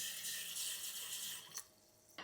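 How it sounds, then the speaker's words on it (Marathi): Water runs into a pot of rice for tomato rice, a soft continuous splashing pour up close that tapers off, ending with a brief clunk. "आता यामध्ये पाणी भरूयात. तांदूळ जितका आहे त्याच्या दुप्पट पाणी."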